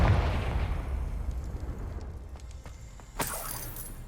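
A Confringo spell explosion in Hogwarts Legacy: a heavy blast at the start rumbles and fades over a few seconds, followed by a sharp, bright crackling burst near the end.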